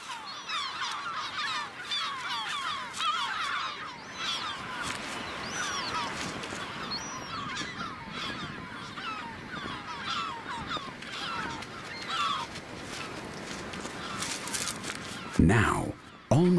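A large breeding colony of yellow-legged gulls, thousands calling at once in a dense, continuous wash of overlapping cries and squawks, with a louder close call near the end.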